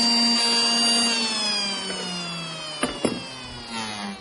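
A hand router spins down with a high, whining motor tone that slowly falls in pitch, broken by a couple of short knocks near the end.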